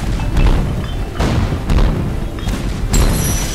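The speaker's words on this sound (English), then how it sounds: "Let's shoot this fucker." Booming, thudding blasts of cannon or gunfire from a Lego Pirates of the Caribbean video game, several heavy hits rolling through a dense, continuous din of game effects at steady loudness.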